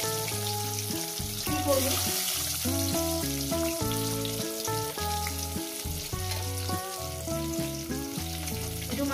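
Eggs fry in a pan for an egg curry, giving a steady sizzle under loud, prominent background music that runs throughout.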